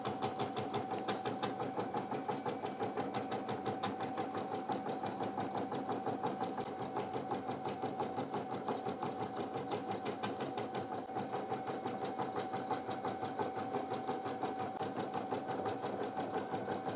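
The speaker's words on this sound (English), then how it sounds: "it like has to move back and forth before it goes to start stitching" A Brother PE900 embroidery machine stitches in a fast, steady mechanical chatter with an even repeating rhythm and a constant motor whine, running alone at close range.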